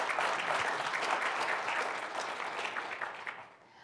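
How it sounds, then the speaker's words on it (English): Audience round of applause at a space economy conference panel, a steady wash of many hands clapping in a hall that gradually thins and fades out toward the end. "Please give him a round of applause."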